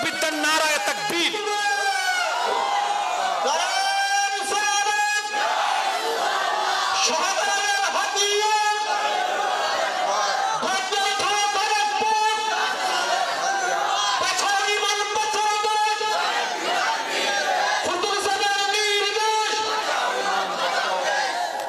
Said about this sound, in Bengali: তাহলে 3টা তাকবীর দেন, নারায়ে তাকবীর।